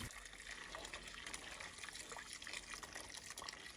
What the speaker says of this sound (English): I'm pouring in my coffee